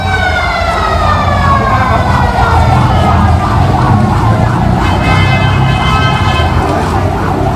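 Loud, continuous wailing fire engine sirens at a fire at Pertamina Central Hospital in Kebayoran Baru, South Jakarta, several sirens overlapping in rising and falling sweeps over a low engine rumble.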